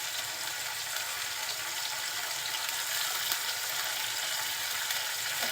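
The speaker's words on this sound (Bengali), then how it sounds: "এখন মশলাটা কিছুক্ষণ একটু কষিয়ে নিচ্ছি।" Spice paste (masala) frying in a pan for a pumpkin and hilsa fish curry gives a dense, even hiss that holds steady throughout with no clear stirring strokes or voices.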